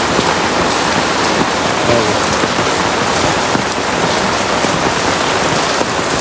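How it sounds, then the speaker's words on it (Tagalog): Heavy rain pours onto surfaces in a dense, steady, loud hiss of drops with no pauses. "Rain, go away."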